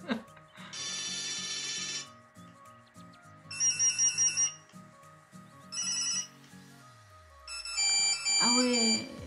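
Several classic Nokia mobile phone ringtones play in bursts of bright, tinny melodic tones separated by short pauses, loud and close, with a faint voice briefly reacting near the end.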